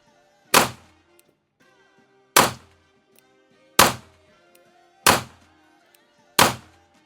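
Five sharp pistol shots fired at a steady pace about every one and a half seconds, each a loud close crack with a short decaying ring, during a test of a handgun fitted with a GOWUTAR GP-7 red dot sight.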